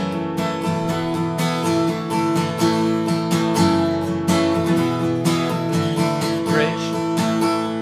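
An acoustic guitar strums the bridge of a worship song, staying on the one chord in a steady, full strumming rhythm, close and loud with no voice over it.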